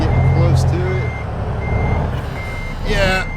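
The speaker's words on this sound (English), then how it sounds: "I set the alarm off." A collision alarm on a truck in American Truck Simulator sounds as a steady electronic beeping tone over a low engine rumble and road noise, fairly loud and close.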